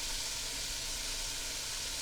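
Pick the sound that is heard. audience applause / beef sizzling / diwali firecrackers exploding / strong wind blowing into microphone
beef sizzling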